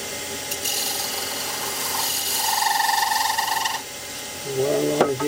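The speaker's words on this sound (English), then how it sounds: "That's probably as deep as I can get there now with the skew." A skew chisel cuts wood on a lathe while a candlestick holder is turned: a spinning whir with a steady tonal hum that rises midway, breaks off, then comes back with scraping bursts near the end.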